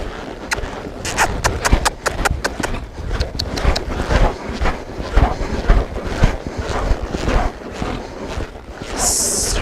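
A horse gallops under a rider in reining training for vaquejada, with rapid, rhythmic hoofbeats thudding steadily, close and loud, with some wind noise across the microphone.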